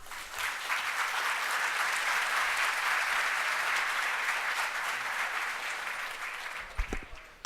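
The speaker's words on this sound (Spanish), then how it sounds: "les agradeceré lo recibamos con un fuerte aplauso" An audience at a stock exchange investment expo in Lima gives a speaker a warm welcome with dense, continuous applause that holds steady for several seconds and then tapers off, leaving a few scattered claps and a bump of handling noise.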